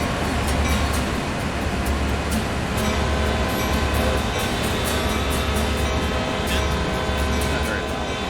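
A train rumbles steadily past in a video game, a loud continuous low roar with rattling wheel clacks running the whole time, while people chat over it.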